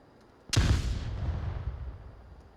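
Grenade exploding in the VR shooter game Onward during a competitive match: one sudden sharp blast, then a broad rumbling decay that fades over about two seconds, with no talking.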